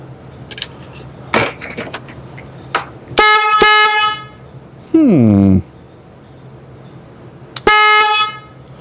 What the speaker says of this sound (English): The air horn is definitely louder.